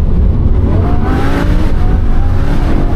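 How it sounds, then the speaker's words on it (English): A Lamborghini Huracan engine with a dual-clutch gearbox revs up loud and close as the car accelerates, its pitch climbing steadily as the engine note swells without pause. "you got so much torque in this engine"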